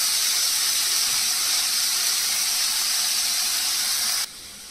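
Very finely chopped onion frying in a pan, an even, loud, close sizzle and hiss that runs steadily for about four seconds before dropping off.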